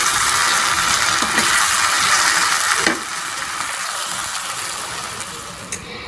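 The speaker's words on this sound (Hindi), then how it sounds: "मिर्चें शामिल करके हम इसको अच्छे से पकाएंगे 2 से 3 मिनट के लिए" Green chilies frying in a hot pan give a steady, loud sizzle throughout, easing slightly partway through after a brief stir, with no talking.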